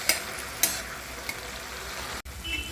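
Steady crackling sizzle of fenugreek leaves with onion, garlic and crushed peanuts frying on a tava, with a few sharp scraping clicks from stirring, close by and with no voices.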